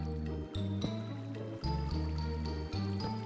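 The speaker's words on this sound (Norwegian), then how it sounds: "Hei, da kommer noe vann inn." Water flowing in while digging in Minecraft, a soft continuous liquid stream with fill and drip textures heard alone under steady game background music with repeating notes.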